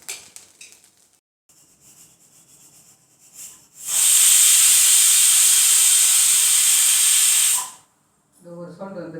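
A pressure cooker whistle blasts steam in one loud, continuous hiss lasting several seconds before cutting off abruptly, with a voice speaking before and after.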